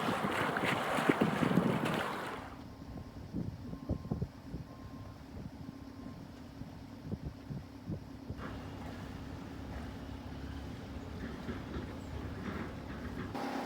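A large ship's low engine drone hums steadily as it passes near Magnetic Island, with heavy wind buffeting the microphone at the start and no talk.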